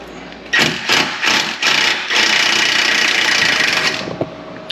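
An impact wrench fitted with chrome sockets removes bolts, firing several loud, close, rattling bursts before settling into one long sustained run that fades out.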